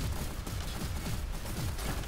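Enemy gunfire in the video game GearUp comes as a dense, continuous rattle of overlapping shots, with no voices over it.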